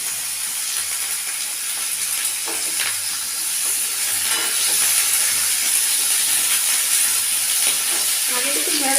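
Okra and potatoes frying in a pan with fresh coriander, a steady close sizzle and hiss with occasional stirring scrapes throughout, no voices.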